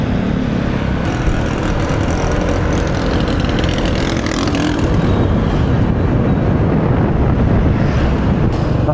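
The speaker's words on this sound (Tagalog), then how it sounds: "Ang lakas pa ng hangin." Strong wind roars and buffets continuously and loudly against the microphone outdoors, with a broad rushing texture that never lets up.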